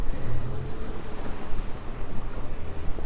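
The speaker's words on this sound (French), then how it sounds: "il y a un peu de mer, il y a un vent bien frais" Fresh wind buffets the microphone and sea waves wash steadily around a racing sailboat out at sea, a continuous broadband roar with rhythmic surges and no talking.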